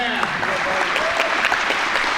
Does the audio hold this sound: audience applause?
yes